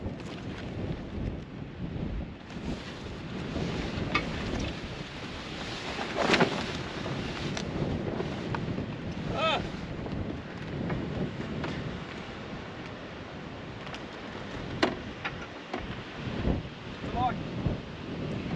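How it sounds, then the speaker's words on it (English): Wind blowing outdoors at sunset across a campsite with a freestanding wing awning, steady gusty rumble buffeting the microphone for the whole stretch, rising into a few stronger gusts. "The wind's catching it though."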